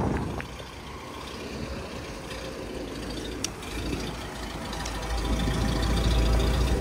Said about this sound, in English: There's Gord's 1923 Kenworth. Just warming it up.